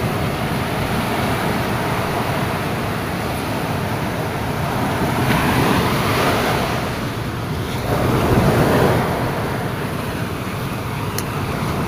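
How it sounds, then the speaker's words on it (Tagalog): Ocean waves wash against the shore on a busy Sunday by the sea, a steady broadband rush that swells louder twice, with wind buffeting the microphone and no talk. "Medyo may kalbog nga lang ang alon."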